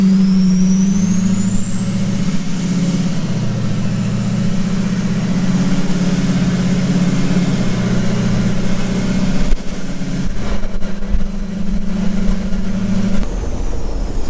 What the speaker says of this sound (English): turbo sounds awesome